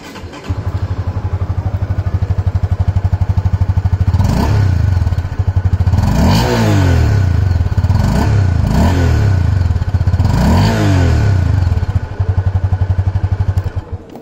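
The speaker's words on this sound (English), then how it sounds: "Now let me just fire up the engine for you to hear the exhaust note." A Honda CB300F motorcycle idles with a deep, throaty exhaust burble, close and loud, then gets several sharp throttle blips that rev up and fall back before settling to idle again.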